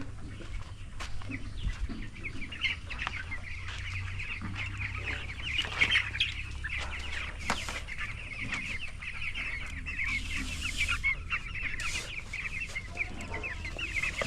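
Broiler chickens on a poultry farm cluck and murmur continuously at close range, with scattered louder calls over a constant low flock hum and no speech.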